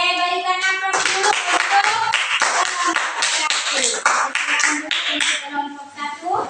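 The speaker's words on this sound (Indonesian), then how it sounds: "berikan aplaus dulu" A class of students applauding together during a teaching session, a dense burst of steady hand-clapping lasting several seconds, loud and close, with voices mixed in underneath.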